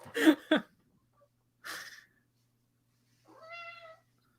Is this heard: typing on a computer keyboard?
no